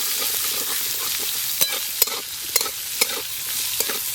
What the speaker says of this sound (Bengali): সব মশলাগুলো আমি ভালো করে ভেজে নিয়েছি